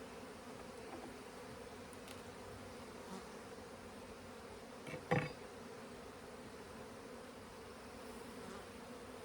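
Honeybees hum in a steady, faint drone around an open hive, with a brief louder rustle or bump partway through.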